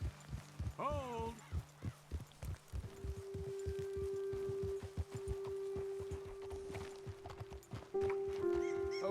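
Horses' hooves clip-clop in a quick, steady rhythm, with a horse whinnying near the start, in the Red Dead Redemption 2 game; a low sustained tone hums underneath as the hoofbeats continue close by.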